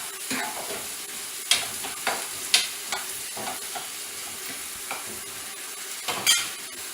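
Paneer cubes fry in a pan with a constant crackling sizzle, punctuated by repeated spatula scrapes and clinks against the metal at irregular intervals, heard close with no talk.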